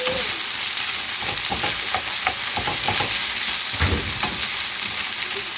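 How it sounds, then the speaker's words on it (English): Carrots, potatoes, onions and red peppers frying in coconut oil for a Spanish tortilla, a dense continuous sizzle close up with scattered crackles and the scrape of stirring, no voices. "and the potatoes and the onions is all fried in coconut oil."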